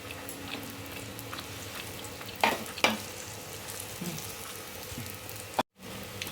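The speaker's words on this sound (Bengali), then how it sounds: "এখন এর মধ্যে অল্প তেল দিয়ে এটাকে ভেজে নিচ্ছি।" Soft sizzle of a potato-stuffed breakfast snack frying in a little oil in a pan, with a few sharper scraping clinks from a spatula and a quiet, steady crackle underneath.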